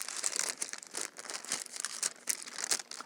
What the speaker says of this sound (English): then we're just gonna cut it right there